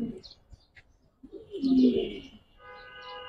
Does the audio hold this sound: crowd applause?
no